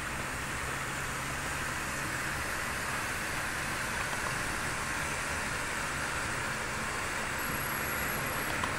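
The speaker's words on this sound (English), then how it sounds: "I guess it's a 40 car train." A 40-car freight train rolls past on a downgrade near Big Lake, giving a steady, broad, continuous rumble and roar with faint tonal hum, constant in level throughout with no speech.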